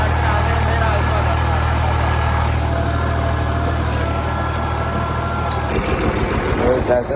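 A farm tractor with a sticking gear, out by the wheat, turns over and settles into a loud, steady diesel throb close by, its note shifting near the end while people talk.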